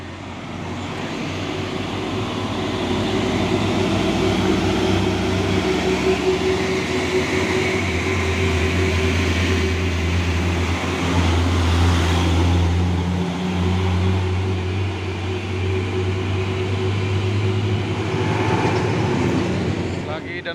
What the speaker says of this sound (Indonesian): Lagi dan lagi truk tangki CPO.